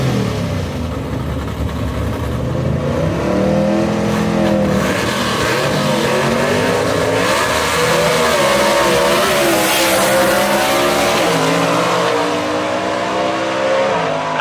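A gasser drag race car launches at Knoxville Dragway, its engine roaring loud and close with rising, wavering revs held steadily for the whole stretch, no voices over it.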